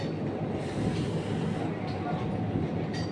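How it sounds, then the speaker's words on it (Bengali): Toy train at the Kailasagiri hilltop park rumbling steadily past, a continuous broadband roar of wheels and motion with no pauses. "এখানে ট্রেন চলে, টয় ট্রেন কৈলাসগিরিতে"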